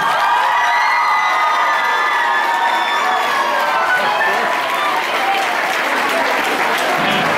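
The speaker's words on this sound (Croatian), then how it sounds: "Molim vas aplauz za ovog ovdje čoveka koji svira gitaru" Audience applause for a guitarist at a Belgrade high school's school-day celebration, a loud, dense and sustained clapping from a large crowd with some cheering mixed in throughout.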